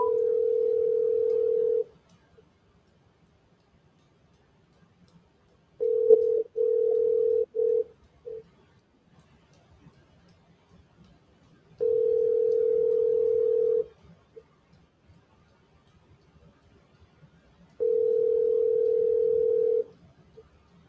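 Telephone ringback tone on an outgoing call before it rolls to voicemail: four steady two-second rings separated by about four seconds of near silence, the second ring broken into short stutters, with no talking.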